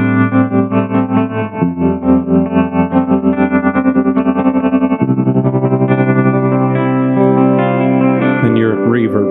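Electric guitar chords through a PreSonus Studio One Ampire amp module with a pulsing vibrato effect, loud and close, the wavering tremble changing speed as it plays.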